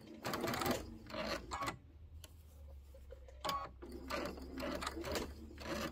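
Short bursts of a sewing machine stitching through fabric, a pillow an eighth of an inch from an inside fold, fast mechanical whirring that starts and stops several times over a low steady hum, close and moderately quiet.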